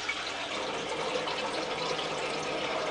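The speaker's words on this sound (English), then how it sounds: "as you can see, the water is being pushed out" Water gushing out of household pipes after a ball cock is pressed down to purge the system: a steady, close rushing hiss that holds evenly for the whole stretch.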